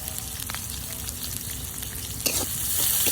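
Garam masala, chopped onion, garlic and green chilies fry in oil with a constant close sizzle, occasional scraping stirs, and a sharp flare of hissing near the end.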